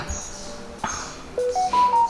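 A mobile phone gives off a short run of rising electronic notification tones, fairly close and clear over a quiet room background, with no talking.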